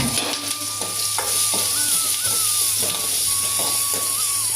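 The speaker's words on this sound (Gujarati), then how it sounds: "તો એમાં આપણે રાઈ જીરુંનો વઘાર કરશું પહેલાં મસ્ત મજાનો" Mustard and cumin seeds crackle and sizzle in hot oil with sharp popping bursts, while a faint whistling tone and low hum run steadily underneath.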